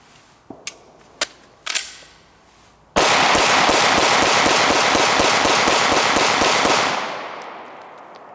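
Smith & Wesson M&P Pro 9mm pistol, wet after being dropped in a puddle, fires a rapid, evenly spaced string of loud sharp shots outdoors after a few scattered single cracks, then a ringing fade.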